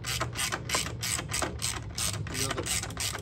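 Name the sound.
tightening a bolt with a ratchet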